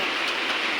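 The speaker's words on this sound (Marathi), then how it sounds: "आणि इकडं खूप पाऊस पडतो आहे, तुम्ही बघू शकता." Heavy monsoon rain falling in Mumbai, a brief steady hiss of downpour, even and fairly close, with no voices.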